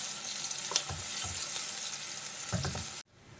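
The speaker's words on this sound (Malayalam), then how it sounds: "എണ്ണ ചൂടായി കഴിഞ്ഞാൽ നമ്മൾ അരിഞ്ഞ് വെച്ചിരിക്കുന്ന സവാള ഇല്ലേ, അത് ആദ്യം നമുക്ക് ഇതിലേക്ക് ഇട്ട് കൊടുക്കാം." Sliced onions sauté in hot oil for vegetable noodles, giving a steady close sizzle broken by a few soft stirring knocks, then cut off suddenly near the end.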